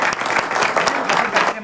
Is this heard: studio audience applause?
yes